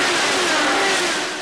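An IndyCar race car engine screams at high revs at the Milwaukee Mile, a loud, dense roar with a rising whine that fills the brief moment before easing slightly.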